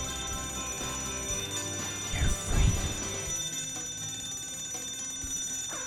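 An alarm in Scribblenauts Unlimited keeps ringing as a steady, continuous electronic tone throughout, with a brief spoken voice over it partway through.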